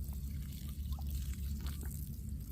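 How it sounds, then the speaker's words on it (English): Gasoline poured down a fire ant hole in a garden, a soft continuous trickle and dribble of liquid close by, with faint low rumbling background and no talk. "we're going to pour some gas down the hole"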